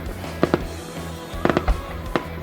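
Canada Day fireworks bursting outdoors, a few sharp booming explosions in quick pairs and singles, loud and punchy with echoing tails over a low crowd murmur.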